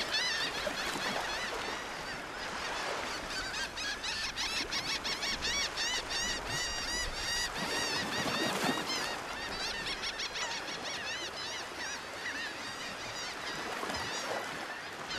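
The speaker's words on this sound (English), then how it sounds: "The sandpipers are joined by noisy flocks of laughing gulls" Noisy flocks of laughing gulls call constantly along the Mississippi shore where sandpipers feed, a dense, continuous chorus of overlapping squawks and cackles heard from nearby.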